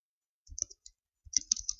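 Close, quiet typing on a computer keyboard: a short burst of key clicks, a brief pause, then a quicker run of crisp taps.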